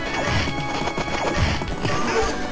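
Horse hooves galloping in the medieval video game Knights of the Round, a dense, busy stream of thudding clip-clops mixed with game clatter and crashes, continuous and loud throughout.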